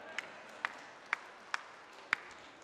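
A few scattered claps in a church congregation during Mass, five or six sharp isolated hand claps spaced about half a second apart, faint against a quiet room.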